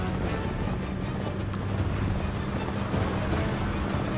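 Horse hooves gallop in Uncharted 3, a steady rapid clip-clop held at an even loudness throughout, mixed into a dense, noisy game soundscape.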